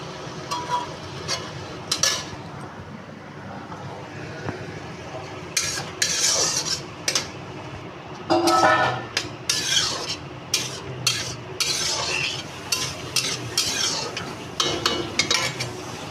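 Boiled chana dal is stirred into frying masala with a utensil, which scrapes and clinks against the pan in irregular strokes over a low, quiet sizzle.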